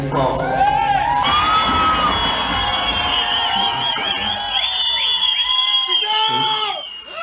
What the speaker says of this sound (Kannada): ನೆಚ್ಚಿನ ನಟ ಬಾದ್ಶಾ ಕಿಚ್ಚ ಸುದೀಪ್ಗೆ ಜೈಕಾರ ಹಾಕುತ್ತಾ ಚಿತ್ರಮಂದಿರದ ಒಳಗೆ ನುಗ್ಗಿದ್ದರು